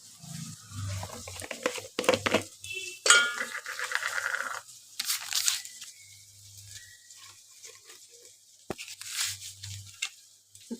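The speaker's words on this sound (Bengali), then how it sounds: "এবার আলুগুলো দিয়ে দিলাম, দিয়ে এবার ভালো করে কষাচ্ছি।" Potatoes are stirred and fried in a pan for chicken curry, giving intermittent scraping and clinking of a spoon against the pan in short bursts with quiet gaps, and no talking.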